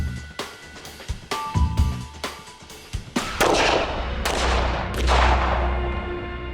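Rapid gunshots from a gun fired at a target during a bullet-curving test, sharp loud cracks at first, then a longer string of shots and heavy booming reports that ring out and overlap.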